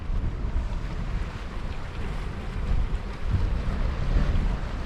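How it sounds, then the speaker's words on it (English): Strong easterly wind blowing across an open seashore at Newport, South Wales, a loud, continuous rumbling roar buffeting the microphone, with gusts swelling toward the end and no voices. "The old wind is getting nasty now. The old easterly is coming straight across me."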